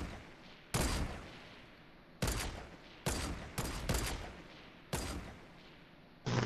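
Gunfire in the Fortnite video game: five or six loud, sudden shots spaced irregularly a second or so apart, each decaying into a hissing tail over a steady background.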